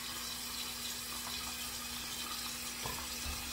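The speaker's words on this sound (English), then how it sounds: "They say you're supposed to rinse your face with cold water because it closes the pores." Tap water runs steadily into a sink while a face is rinsed, a constant close hiss with faint splashes near the end and no talking.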